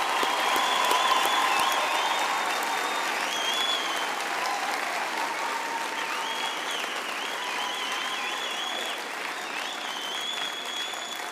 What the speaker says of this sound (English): let us give our graduates a big hand for their hard work and perseverance